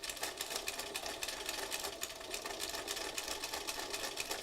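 A sewing machine stitches continuously with a fast, even rattle, steady and fairly faint throughout, with no pauses and no voices.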